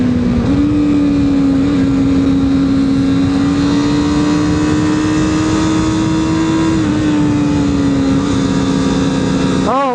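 A CFMOTO 500SR sportbike engine drones at a steady pitch during a track test ride, loud and close, mixed with rushing wind noise and rising in a short rev at the end.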